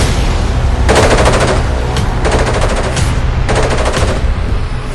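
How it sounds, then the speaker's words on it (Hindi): Machine gun fire from militants landing by paraglider in Israel during a Hamas attack, heard as three loud sustained automatic bursts of rapid shots over a steady low rumble. "अंधाधुंध गोलियां बरसाने लगे"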